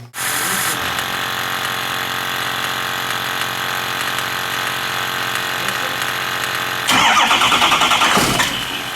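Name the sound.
6.0L engine starting after cooler replacement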